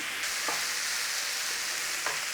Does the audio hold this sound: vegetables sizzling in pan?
yes